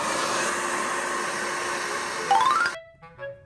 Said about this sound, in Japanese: ドライヤーで温めてギューって密着させます。